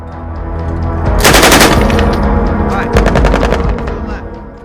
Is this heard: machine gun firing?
yes